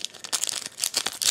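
Pokémon card booster pack from a Legendary Treasures blister pack being opened, crisp foil crinkling and tearing in quick irregular bursts, close and alone.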